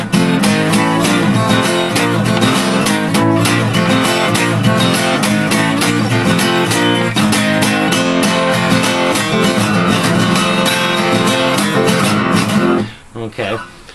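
Acoustic guitar strummed through a repeated twelve-bar section of a folk stomp, played loud, steady and rhythmic with no talk, then cutting off abruptly near the end.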